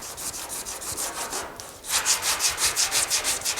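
A sanding block with 100-grit paper rubs back and forth over a car fender on a GTO restomod, close and loud, in regular rapid strokes with a brief pause midway, no talking.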